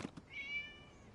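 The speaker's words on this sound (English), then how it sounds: "It was just a cat." A single soft cat meow sounds in a video game, a short, faint, rising-then-falling cry after two brief clicks.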